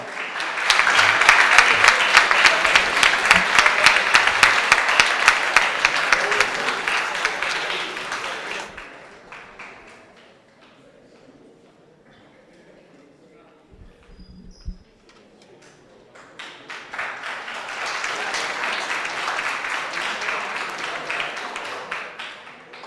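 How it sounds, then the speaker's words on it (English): An audience applauds at the closing awards ceremony of a school science and technology innovation challenge. Two long waves of clapping are separated by a quieter lull of a few scattered claps before the applause swells again. "a round of applause for them"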